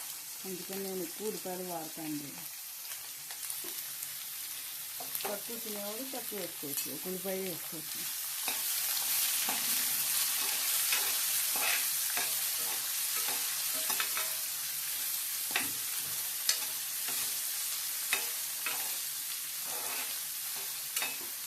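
Two large chopped onions frying in a tempering of hot oil for a ridge gourd and chana dal curry, a steady broadband sizzle with repeated stirring scrapes; a voice talks over the first several seconds before the sizzle grows louder.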